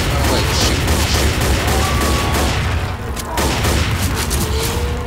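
Rapid, continuous gunfire from the zombie shooter game Left 4 Dead plays in a custom campaign. The shooting is loud and dense, with a faint voice underneath.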